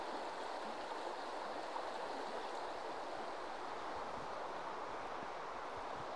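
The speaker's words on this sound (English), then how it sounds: "You get that lovely rushing, babbling sound of the water" A river rushes and babbles along a walking path near Thornthwaite and Darley, a steady, soft wash of flowing water heard alone and close by, unbroken from start to finish.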